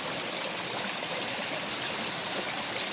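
A West Virginia creek streams past in a steady, close, broadband rush, with no pauses and no voices over it.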